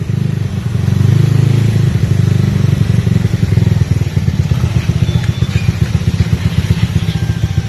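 Motorcycle engine running close by, a loud steady putter that swells after a moment and then settles into a rapid rhythmic idle with some clatter.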